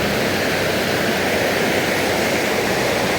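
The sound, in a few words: flowing water of Cikuluwung river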